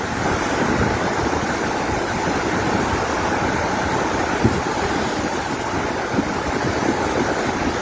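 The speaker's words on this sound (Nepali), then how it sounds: "खोलाको खोला चाहिँ यहाँ छ आनन्दले सुसाइरहेछ" The Trishuli River in Rasuwa, swollen by a glacier-burst flood from Tibet, rushes with a loud, unbroken roar of churning water, dense and close, with some wind buffeting the microphone.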